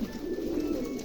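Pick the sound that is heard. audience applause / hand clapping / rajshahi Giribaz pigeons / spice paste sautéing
rajshahi Giribaz pigeons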